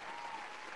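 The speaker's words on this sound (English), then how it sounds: "Let me get this applause in here" Applause sound effect dropped in by a DJ during a live online hip-hop show, a short burst of dense, steady clapping from a crowd, loud and continuous with no talking over it.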